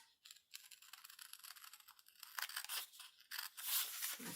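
Scissors cut a small sticker stamp loose from brown paper tape, making quiet, close crisp snips and papery crunches in a short irregular series, growing slightly louder toward the end.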